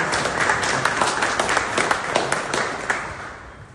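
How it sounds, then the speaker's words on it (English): An audience applauds Senator Bill Cassidy in a steady wash of clapping that holds for a few seconds, fairly close and moderately loud, then begins to thin out toward the end. "Everybody, round of applause for the Senator."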